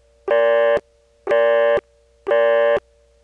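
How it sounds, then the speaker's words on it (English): Busy signal on the Kenly, North Carolina telephone exchange from the 1970s, three evenly spaced buzzing tone bursts with short blips at the start and end of each, loud and clear, no talking. "Here's the Kenley busy signal with the ringtone blips enhanced."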